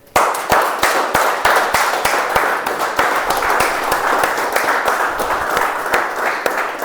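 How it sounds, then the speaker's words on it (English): Dense, steady applause from an audience at a Toastmasters meeting, many hands clapping at once with sharp claps standing out, running loud and unbroken throughout with no talking. "let's give a big round of applause for all the speakers who came on the stage and give their try"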